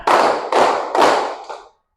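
A group claps the tepuk amanah rhythm as a chant, three strong bursts of many hands in an even beat and then a softer fourth, close and loud, with no voices.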